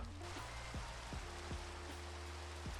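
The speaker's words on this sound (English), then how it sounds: "It started to rain, look." Rain falling in the Minecraft video game on Xbox 360: a steady, dense hiss of rainfall that continues evenly throughout, with faint low tones sounding underneath.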